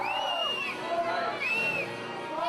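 A Houston crowd at an NWA wrestling match fills the arena with a continuous roar, rising whoops and whistles sweeping over the dense babble.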